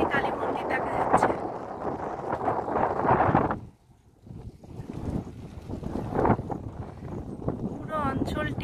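Wind buffeting the microphone on a hilltop overlooking a Kali temple in Madhupur, loud gusty roar that dies away briefly then returns, with a voice speaking under it.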